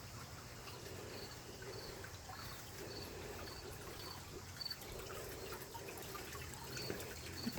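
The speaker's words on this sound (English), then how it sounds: "The patio water garden." Water trickles steadily in a small patio water garden, a soft continuous outdoor babble at close range with no talk over it.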